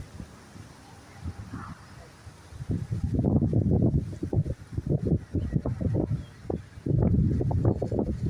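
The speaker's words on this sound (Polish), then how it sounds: "Ale silny wiatr." Gusty wind at a pigeon racing loft buffets the microphone in loud, irregular bursts, rumbling low and strong throughout.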